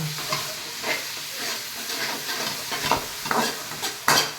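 Chopped tomatoes frying in a pan for chicken chilli, with a constant hissing sizzle and a few louder spatula scrapes toward the end, near and clear, without any talking.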